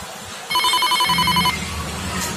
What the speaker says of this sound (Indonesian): telepon ini.